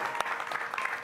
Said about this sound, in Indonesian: Tepuk tangan dulu dong buat Bang Osner